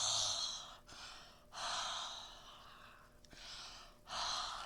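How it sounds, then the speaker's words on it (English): Several forceful huffs of breath blown onto an inked rubber stamp for card making, each a breathy rush lasting about a second, close and fairly loud, with short pauses between them and no talk. "I'm going to huff really good on here."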